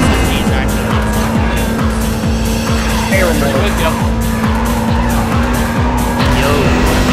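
In Midnight Club 2, a racing car's engine drones loud and close, with rising revs, gear changes and squealing tires. A player talks over the engine now and then.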